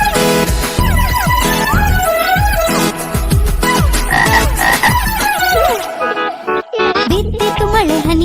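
Frog croaks sound loud and repeated, alongside bright melodic music, probably part of a children's rain song.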